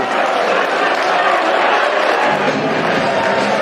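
Millwall football crowd after a home win over Stoke City, a dense, steady roar of many voices filling the stadium, loud and continuous throughout without a break.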